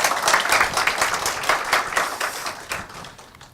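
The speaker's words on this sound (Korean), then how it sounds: "커다란 박수를 모시겠습니다" Audience applause at a panel talk on safety, a dense crowd clapping that starts strong and gradually thins out over a few seconds.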